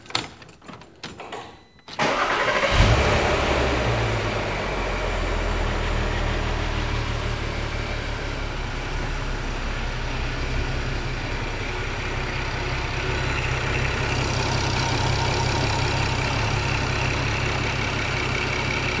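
A few quiet clicks, then a Volkswagen B6 Passat R36 engine cranks and catches just after an oil change, settling into a steady, loud idle with a low rumble that runs on unchanged.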